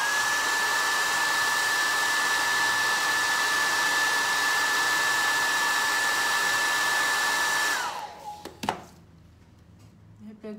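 A hair dryer blows steadily and loudly to dry paint on a wooden decorative plaque, a constant whining hum that cuts off near the end, followed by a few clicks and quiet handling.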